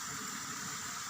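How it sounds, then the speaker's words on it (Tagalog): Water boils in a cooking pot in a home kitchen, a faint, even bubbling hiss that holds steady throughout the short moment with no talking. "Kumukulo."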